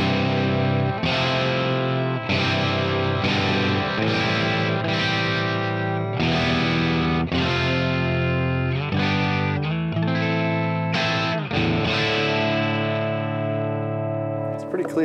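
Telecaster bridge pickup played through a Maritime Analog Pistol Slapper overdrive at its drive setting into a Marshall 4x12 cabinet with Greenback speakers, strummed chords ringing loud and sustained, each chord struck and held in steady succession.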